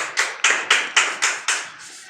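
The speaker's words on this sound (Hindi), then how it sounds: "ताली बजाइए लड़की के लिए" Classroom applause rises for a girl student at a coaching class as test results are announced. About seven crisp, evenly spaced claps sound close by, then fade away, with no talking.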